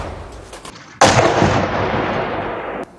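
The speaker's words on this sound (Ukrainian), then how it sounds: "不远处就传来巨大爆炸声" Heavy artillery fire and a large explosion on the front line at Bakhmut, Ukraine: a loud, close blast bursts in and rumbles on for nearly two seconds before cutting off, preceded by lower battlefield noise.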